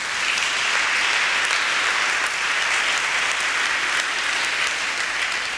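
A church congregation at a Sunday service breaks into loud, sustained applause that fills the room evenly and steadily throughout, with no pauses.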